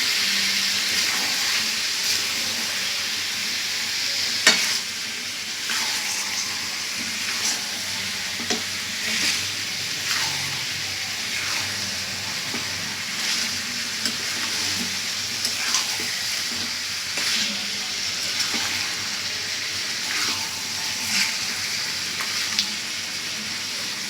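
Meat fries in a pan with a steady loud sizzle while a utensil stirs it, giving a string of scraping knocks over the continuous hiss, with no talking.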